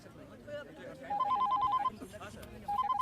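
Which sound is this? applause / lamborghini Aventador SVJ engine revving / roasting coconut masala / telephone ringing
telephone ringing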